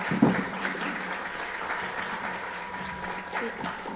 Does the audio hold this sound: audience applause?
yes